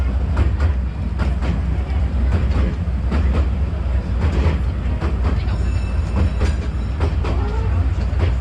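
Legoland Windsor park train running on its rails at Christmas, a loud, close, continuous rumble with repeated clickety-clack wheel beats and some faint metallic squeals near the end.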